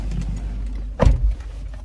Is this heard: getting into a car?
yes